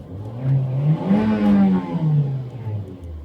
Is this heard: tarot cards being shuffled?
no